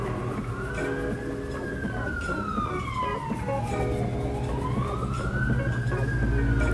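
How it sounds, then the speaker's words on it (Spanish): Ambulance sirens passing outside a room, a steady wailing tone sweeping slowly up and down over a constant low rumble of traffic, moderately loud and heard without talk. "Las ambulancias, hoy pasaron de todas."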